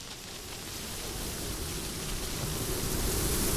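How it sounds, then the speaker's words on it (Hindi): Strong wind blowing at night before rain, a loud, steady broadband rush that swells slightly over a few seconds, heard alone without talk. "कितनी तेज हवा चल रही है, लगता है बारिश होने वाली है।"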